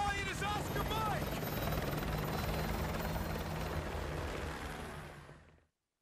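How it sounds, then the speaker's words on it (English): Helicopter rotor noise from Call of Duty: Modern Warfare 2, a loud, steady, dense thrum that holds throughout and fades away near the end, with brief voice-like tones at the start. "Use my helicopter."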